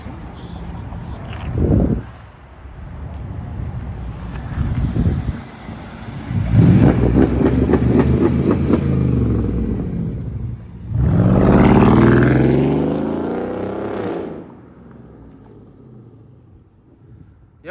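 Mercedes CLS 550 AMG engine revving outdoors on a street: a rumbling idle builds into two loud surging revs in the middle, then settles back, with wind buffeting the microphone and no talk.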